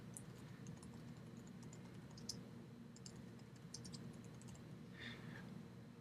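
Typing text on a computer keyboard, a faint patter of scattered key clicks at close range with no talk.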